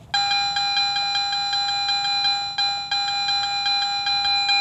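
A Garrett metal detector with an 8.5 x 11 inch DD coil sweeps over a buried target, giving a loud, steady electronic tone that pulses in quick regular beats, with one short break, and no talking.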